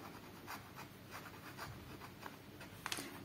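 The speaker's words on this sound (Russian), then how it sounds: "сейчас напишу еще здесь просто описание ручки" A Jinhao 35 fountain pen with a steel body scratches softly across paper in close, faint strokes, a quiet irregular patter of short scribbles.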